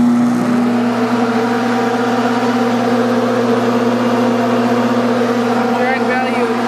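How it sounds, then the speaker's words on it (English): A small wind tunnel drag tester blows air over a model dragster, a steady droning hum with a strong low tone that holds level throughout, close and loud. "it blows wind through this little tunnel, and yeah, we find out the drag"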